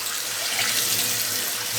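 Steady, close water flow pours from a sink tap while a cast iron pan is rinsed, a continuous even hiss with no break and no talking.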